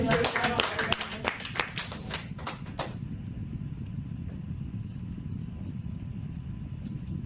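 Church congregation applauding during French-language worship, a dense burst of clapping for about three seconds that then fades under a low murmur of voices and room noise.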